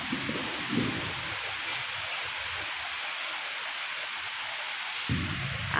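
Heavy rain falls in a dense, steady hiss heard from indoors under a concrete roof. A couple of brief low rumbles sit underneath it.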